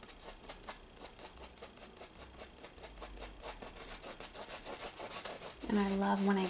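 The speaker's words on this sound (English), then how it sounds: "when it gets dry and it gets hard like that, and you try and, you know, brush it. It has that dry sound." A paintbrush dragged across dry, hardened acrylic paint gives a steady, faint, raspy scraping in quick repeated strokes. A brief higher tone enters at the end.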